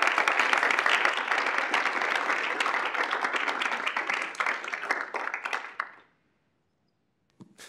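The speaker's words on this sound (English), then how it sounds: "So if we could give them a round of applause." Crowd at a university student involvement event gives a warm round of applause, dense clapping that holds steady, thins out near six seconds and stops, followed by silence and a faint noise.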